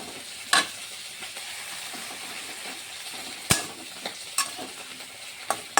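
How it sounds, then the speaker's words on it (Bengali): White gourd and fish head curry with coriander leaves being stirred in a pan, a low steady sizzle broken by several sharp spoon-on-pot clanks and scrapes, close up and without any talk. "আমি এখন একটু ধনে পাতা দিয়ে নেড়ে চেড়ে নামিয়ে ফেলবো"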